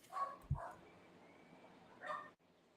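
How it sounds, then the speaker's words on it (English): A dog gives a few short, faint barks and yips at a distance, with quiet gaps between them. "Somebody's dog is pissed."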